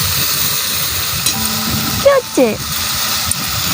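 Spices stirred and fried in hot oil with turmeric, a steady sizzle running under a voice and a brief spoken question, with a couple of clinks as the mixture is turned.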